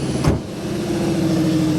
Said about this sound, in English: The RS4 sounds rather nice, but they're leaving